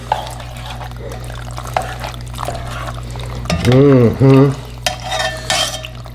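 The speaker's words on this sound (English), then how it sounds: "let's give that a stir." Pasta being stirred into tomato sauce in a pot, soft wet scraping and sloshing with a low simmer underneath, while someone briefly speaks over it.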